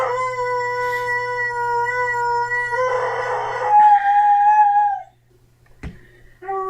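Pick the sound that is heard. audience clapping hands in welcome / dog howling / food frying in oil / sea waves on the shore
dog howling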